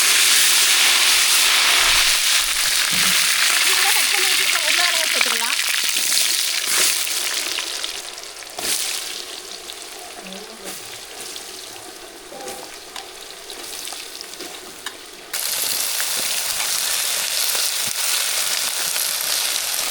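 Potatoes and curry leaves temper in hot oil, giving a loud, steady sizzle and hiss close by that eases for a while, then returns at full strength, with occasional stirring clinks and no talk.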